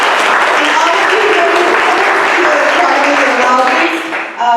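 An audience breaks into loud, sustained applause with cheering, a dense wash of clapping that holds steady before tapering slightly at the end.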